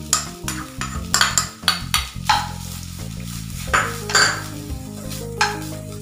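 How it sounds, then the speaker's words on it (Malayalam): Grated coconut is stirred in ghee in a hot pan, a spoon scraping and clinking against the pan in repeated strokes over a faint, steady sizzle. "ഇനി ഇതിലേക്ക് ഞാൻ ചേർത്ത് കൊടുക്കുന്നത് തിരികെ വെച്ച 1 കപ്പോളം നാളികേരമാണ്"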